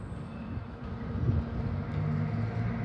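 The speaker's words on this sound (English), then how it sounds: "Here we have AR03 about to pass platform number 2, bound for a Blue Mountain service." Train AR03 passes platform 2 at Lidcombe station on a Blue Mountains service, a steady low rumble of rolling wheels and engine noise, fairly loud and continuous.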